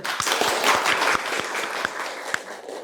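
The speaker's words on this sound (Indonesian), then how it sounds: "Oke, tepuk tangan dulu." A classroom group claps together for a short spell, the separate hand claps sharp and easy to pick out, loud at first and then thinning out toward the end.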